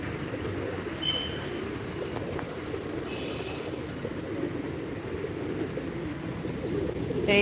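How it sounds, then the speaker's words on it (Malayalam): Pigeons, among them a white one, gather in a spot where people put out food, cooing in a soft continuous low burble against light outdoor background noise. "അപ്പോൾ അതേ നമ്മുടെ വെള്ളപ്രാവ് ഇവിടെ ഉണ്ട്"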